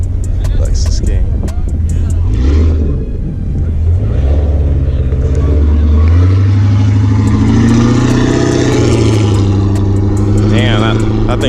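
A loud Lexus V8 engine revving hard at a Las Vegas car meet, deep rumbling roar rising and falling in pitch with strong low-end throb, close by, with people talking over it.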